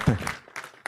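Audience at a banquet breaks into brief applause, with short bursts of clapping following a voice at the start.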